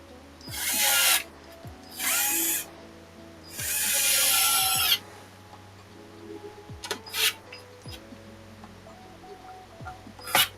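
Power screwdriver driving screws into an Xbox 360 Slim console, three close whirring bursts of about a second each, then a quieter stretch of clicks and handling noise with a couple of brief whirs near the end.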